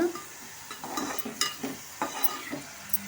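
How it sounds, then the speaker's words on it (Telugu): Chopped onions, three small ones, frying in hot oil in a pan, giving a soft close sizzle broken by several sharp scraping stirs and clinks of a spoon against the pan. "ఉల్లిపాయలు వేసి నూనె మరిగాక ఆ ఉల్లిపాయలన్నీ వేసి"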